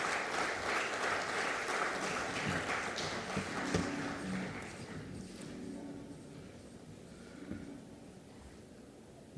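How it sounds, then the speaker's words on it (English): Audience applause at an investment conference as a speaker is invited to the stage, loud clapping at first that gradually fades to a few scattered claps. "A round of applause for him."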